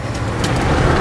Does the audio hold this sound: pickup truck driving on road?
yes